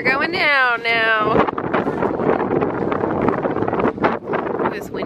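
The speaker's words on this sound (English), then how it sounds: "It is windy." Strong wind outdoors at Anakeesta in Gatlinburg, Tennessee, roars across the microphone in a continuous, gusty rush after a brief, high vocal cry at the start, with people's voices in the mix.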